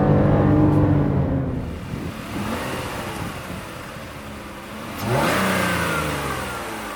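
The 3.6-litre gasoline engine of a 2019 Chevrolet Colorado pickup truck revs up, drops back, then revs strongly again, the rising whine clear and close over a steady engine drone.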